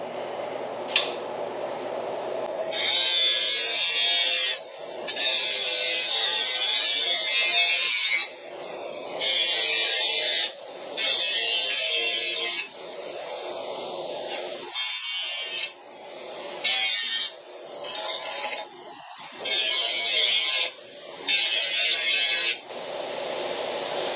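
Metal edges of a 1953 Packard floor pan are deburred in a shop with a power tool, which buzzes in repeated short bursts separated by pauses of varying length.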